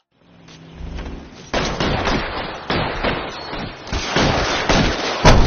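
Rapid gunfire during a firefight in the 1940s crime game L.A. Noire, loud sustained bursts of shots from several weapons that start abruptly after a quiet lead-in and continue densely to the end, no voices.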